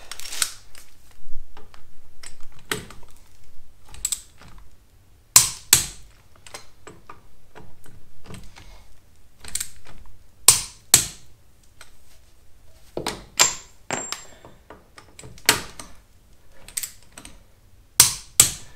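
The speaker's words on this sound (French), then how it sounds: "Donc là maintenant on serre au couple." A torque wrench tightens the wheel nuts on a Lotus Elise fitted with new wheels and semi-slick tyres, giving sharp, separate clicks and taps at an uneven pace, close and fairly loud, with no talking.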